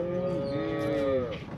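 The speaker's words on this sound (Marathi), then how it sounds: "आता ही कशी आहे गाय?" A large cow at a livestock market in Modnimb gives one long, loud, close moo that holds steady for over a second before fading.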